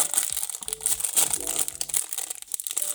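A plastic LEGO advent calendar bag with a single item inside is torn open, with crisp crinkling and crunching that comes in close bursts throughout, and no voice.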